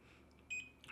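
A single short electronic beep from pressing the timer button on a Smartmi P1 air purifier, thin and high-pitched over a quiet background, close by.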